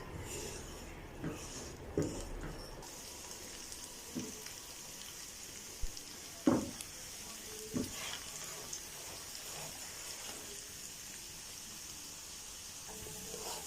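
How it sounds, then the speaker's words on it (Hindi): Garlic and cumin fry quietly in a pan, a soft continuous sizzle with scattered utensil taps and clinks at irregular intervals. "लहसुन की अच्छी सी खुशबू आने तक जो है वो इसको हम पकाएंगे।"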